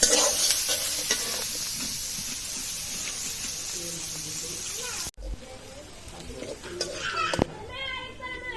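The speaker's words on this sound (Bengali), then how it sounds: "দিয়ে দিব পেঁয়াজ কুচি, ভালো করে ভেজে নেব।" Chopped onions frying in a pan with a constant hiss and scraping stir strokes, louder at first, then quieter with faint voices and a child's chatter in the background.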